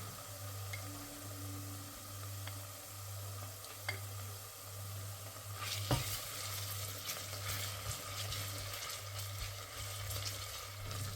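Ginger garlic paste fries and is stirred in a pan, a soft steady sizzle with a low background hum, growing louder and busier with scraping stirs about halfway through.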